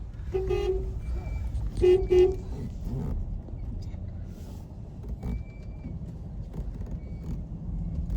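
A car horn toots several times in short bursts while driving along a village road blocked by cows and goats, with the engine hum underneath and faint voices.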